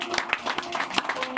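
A studio audience claps for Jimmy on a French-language talk show, a short burst of scattered, uneven hand claps at moderate volume with no one speaking over it.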